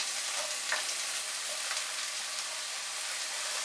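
Chopped onion and garlic sizzle in a pan with a dense, even frying hiss that runs throughout, broken by a few faint stirring scrapes, and no one speaks.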